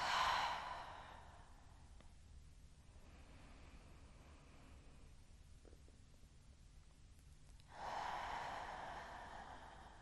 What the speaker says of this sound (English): Taking deep inhales in through your nose. Audible exhales through your mouth.